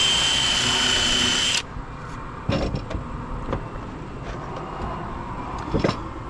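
Power drill driving screws into soft wood during a slate roof repair: one loud, sustained whine for about a second and a half, then quieter handling knocks and taps.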